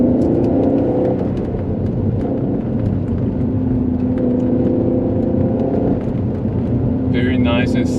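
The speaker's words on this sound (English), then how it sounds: "Very nice and smooth V6 engine." An Alfa Romeo 147 GTA's Busso V6 pulls steadily along back roads in third gear, a smooth continuous mid-pitched engine hum with slight rises in revs, heard from inside the cabin under a driver's talk.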